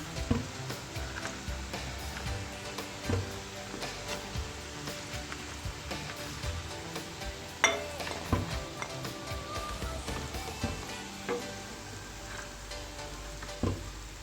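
Food sizzling and frying in a pan during home cooking, a steady crackling hiss with scattered pops and spatters running throughout, close and continuous with no talk over it.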